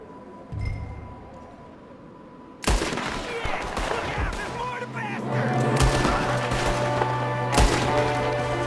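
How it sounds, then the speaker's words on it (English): Gunfire in the Red Dead Redemption II video game: a dense, loud barrage of overlapping shots and thuds bursting in after a quiet start, continuing steadily with game noise and music underneath. "There's another one shooting from the window."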